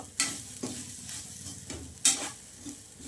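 A spoon scrapes and stirs a thick prawn masala in a sizzling pan, with a few sharp clinks against the metal, close and moderately loud.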